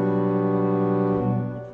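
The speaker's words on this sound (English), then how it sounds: "the final harmony at the end of each canticle is a minor ninth chord" A minor ninth chord sounds on an organ, one sustained, rich chord held steadily and slowly fading at the end, with no voices.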